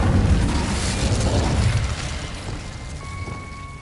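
Incendio fire spell cast in the video game Hogwarts Legacy, a loud whooshing burst of flame that roars at the start and gradually fades, with faint tonal chimes near the end.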